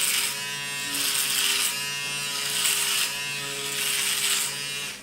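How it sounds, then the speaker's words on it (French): A Panasonic men's electric shaver runs continuously while shaving, a steady close high buzz with a bright hiss that swells and eases rhythmically as it moves over the skin, with no talking. "on allume le rasoir en appuyant sur le bouton ici"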